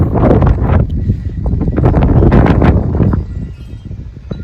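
Strong gusty wind buffets the microphone in a steady low roar with rustling crackles, loud and close throughout, easing slightly toward the end.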